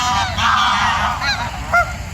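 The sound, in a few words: geese honking at Cleethorpes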